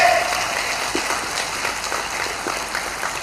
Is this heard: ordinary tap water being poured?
no